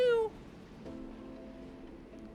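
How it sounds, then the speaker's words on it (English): A cat meows once, loud and close with a bright rising-falling tone, in the video game Tales of the Neon Sea, followed by quiet ambient game hum. "Meow meow meow."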